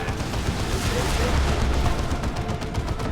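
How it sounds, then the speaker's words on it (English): Demolisher cannon fire in the Dawn of War II: Retribution strategy game, a dense, heavy booming blast that fills the whole stretch at a loud, steady level with no talk. "Demolisher Cannon shot."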